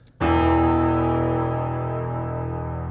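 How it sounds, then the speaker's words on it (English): A low piano octave rings out after a sharp strike and sustains for several seconds, swelling with reverb and slowly fading. "go record a low octave on the piano"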